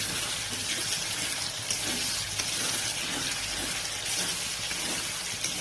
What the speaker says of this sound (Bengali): টমেটোটাকে ভেজে নেব ভালো করে।